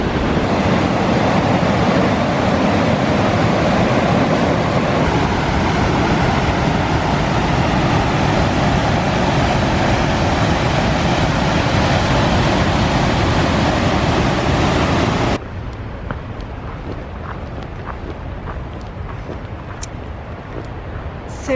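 Loud, steady roar of rushing water where Evolution Creek joins a river on a mountain trail, broadband and continuous for about fifteen seconds before dropping abruptly to a quieter, more distant flow.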